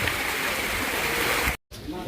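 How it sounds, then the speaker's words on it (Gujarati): Natural mountain water running down the slopes of Girnar gives a steady, loud, close rush that breaks off for an instant, then resumes more softly with a faint voice over it. "ઉપરથી એકદમ નેચરલ પાણી આવી રહ્યું છે"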